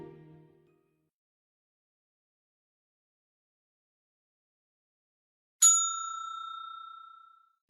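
A front desk bell in a hotel lobby is struck once, giving a single bright, clear ring that hangs and slowly fades after a few seconds of near silence; a faint low voice murmurs briefly at the very start.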